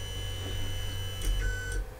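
A Lulzbot Mini 3D printer homing its Y axis: a faint, steady mechanical whir runs under a low hum, with a couple of brief electronic chirps near the end.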